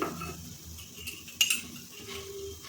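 A utensil scrapes and clinks in a pan while spice paste for a taro-leaf kofta curry is stirred and fried, faint sizzling underneath and a sharper metallic tap midway, no voices.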